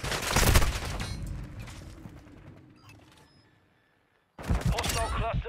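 Heavy gunfire in Call of Duty Modern Warfare II team deathmatch, with dense bursts at the start that thin out into a brief near-silence, then another loud volley near the end; game voice lines are mixed in.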